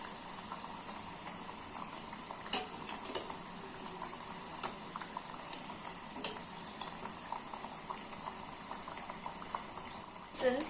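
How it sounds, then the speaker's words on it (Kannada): Nippattu deep-fry in oil over a medium flame, giving a faint, steady bubbling fizz with occasional small clicks and taps. "ಸೊ ಮೀಡಿಯಂ ಫ್ಲೇಮ್ ಅಲ್ಲಿ 4 to 5 minutes ಇದನ್ನ ನೀಟಾಗಿ ಫ್ರೈ ಮಾಡ್ಕೊಳ್ಳಿ"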